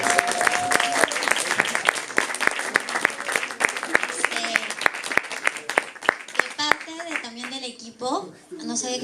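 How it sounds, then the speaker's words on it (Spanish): Audience applauding at a film talk about Peruvian cinema, a run of sharp, close claps that thins out near the end as voices and background sounds take over. "Un aplauso."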